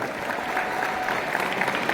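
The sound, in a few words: audience applauding loudly for the school at alumni reunion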